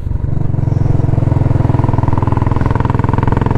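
Royal Enfield Classic 500 motorcycle with a BSA muffler riding under power, its single-cylinder exhaust thumping in a loud, steady, rapid pulse close by throughout, with no talk.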